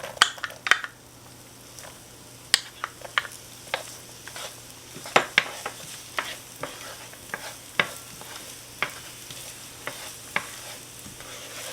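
Chopped onion cooking in melted butter in a pan, a soft sizzle beneath repeated scraping clicks of a utensil stirring against the pan at an irregular pace.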